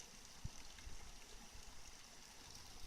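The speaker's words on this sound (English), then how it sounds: "And the water all runs down here" Water trickles and burbles over rocks in a soft, steady stream, faint and outdoors, with a couple of small knocks near the start.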